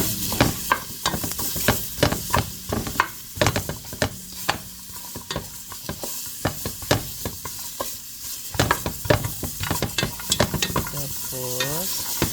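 Onion, garlic and ginger fry in a pan, a loud sizzle punctuated by repeated sharp scraping and stirring knocks in an irregular rhythm, with no voices.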